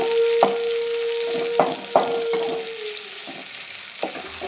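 Chopped onion frying in mustard oil with mustard seeds and cumin in a kadhai during late-night hostel cooking, a steady close sizzle punctuated by several sharp scrapes and clanks of a spoon stirring, with a faint tone humming behind.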